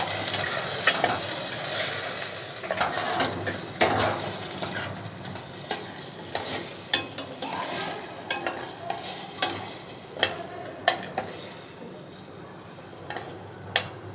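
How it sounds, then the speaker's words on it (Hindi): Arvi (taro root) sabzi is stirred in a frying pan over a steady sizzle, with repeated sharp scrapes and taps of the spoon against the pan, close up and with no talk. "थोड़ा सा चलाएंगे"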